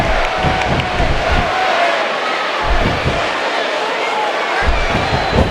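A large arena wrestling crowd in Canada, in the WWE 2K15 video game, roars and cheers continuously with rhythmic swells, loud and enveloping.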